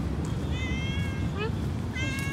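A cat meows several times during a morning walk along the BGC Greenway, its short, rising calls near and clear over steady outdoor background noise.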